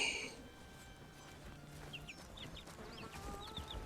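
Chickens and chicks in the farming game Bellwright, soft clucks and small peeping chirps scattered across a quiet background, fairly faint and close.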